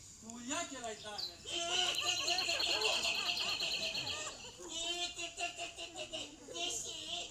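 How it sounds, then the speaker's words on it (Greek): Birdsong as a sound effect during a theatre play: rapid chirps and trills in bursts, fairly close, with people speaking or calling alongside. "Άκου. Πουλιά"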